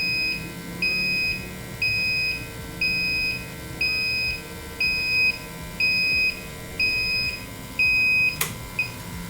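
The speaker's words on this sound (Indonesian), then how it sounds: "di sini ada pengujian high temperatur alarm" A high temperature alarm sounds during a system test, sharp electronic two-tone beeps repeating about once per second in regular bursts over a faint electrical hum, with a brief click near the end.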